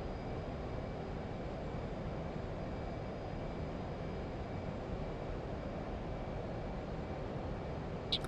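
Steady, even roar of an F/A-18C Hornet's twin engines at full afterburner in DCS World, a constant broadband rumble with no variation and no voices.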